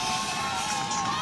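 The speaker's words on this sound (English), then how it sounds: "There's a huge round of applause here at the finishing line" A crowd cheers and claps at the finish line of the Rome marathon, a continuous roar of voices and applause with faint shouting from spectators.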